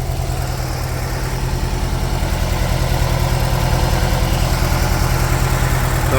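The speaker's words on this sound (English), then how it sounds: "Sounds like it's still on a bit of choke" VW T25 T3 Vanagon with a 1.9 petrol engine idles on choke, a close, steady, rhythmic low thrum with an even pulsing beat throughout, alone and without voices.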